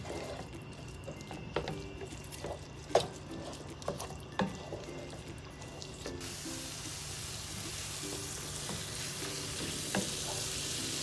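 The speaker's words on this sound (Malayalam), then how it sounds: "ഇനി ഇത് കുറച്ച് നേരം ഒന്ന് നന്നായിട്ട് വഴറ്റിയെടുക്കാം." Chopped green chilli sautéing in a pan for shrimp roast, a close steady sizzle with scattered scrapes and taps of stirring, the frying hiss swelling louder partway through.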